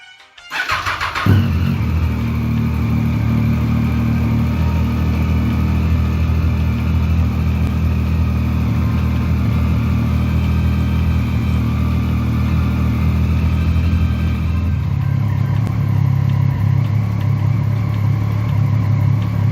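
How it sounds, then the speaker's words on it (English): A motorcycle engine starts and settles into a steady, loud idle close by, holding an even low rumble with a slight shift in tone near the end, no talk. "we're going to start up the bike and run it for 5 minutes"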